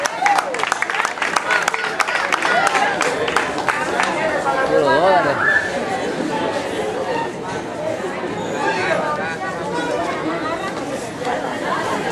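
Applause and cheering from a crowd at a prize-giving for a women's senior category, steady clapping mixed with chatter and shouts filling the room throughout.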